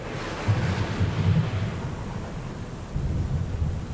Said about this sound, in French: Il se mit à pleuvoir sur la terre.